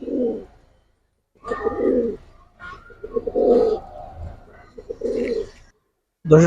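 Giribaz pigeons coo in repeated low, throaty bursts separated by short pauses, close and clear with no talking.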